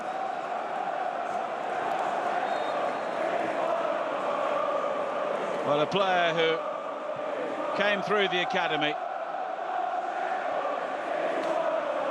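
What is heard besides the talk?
Coventry City fans singing Josh Eccles chant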